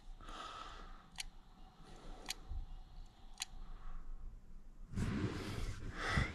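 Sharp, isolated clicks from a failing hard drive recur about once a second in a quiet room, three evenly spaced, followed by a burst of rustling or handling noise.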